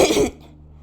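A single short cough, fairly close and alone, fading quickly into quiet room tone with a low hum.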